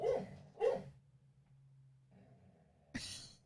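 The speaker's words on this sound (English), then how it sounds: "Oh, he's growling at something." Sleeping dog giving low throaty growls and grumbles, two short rough bursts up front, then a quiet low rumble and a final huff, faint and close.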